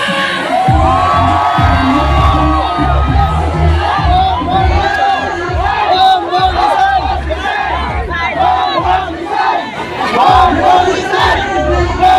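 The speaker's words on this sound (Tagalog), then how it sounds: "gusto natin marinig kung gaano kalakas ang sigaw ng taong bayan" A large crowd at a Philippine political gathering roars, shouting and cheering loudly and continuously, with bursts of whoops rising and falling throughout.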